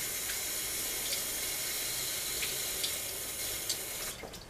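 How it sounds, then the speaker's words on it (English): Water runs steadily from a kitchen tap as hands are rinsed during cookie baking, a continuous even splashing hiss with a few faint clinks and no talking. "Oh, let me rinse my hands."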